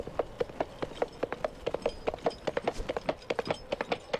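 Horse hooves clip-clopping in Conan Exiles, a quick, even run of crisp close hoofbeats at a trotting pace with no talk over them.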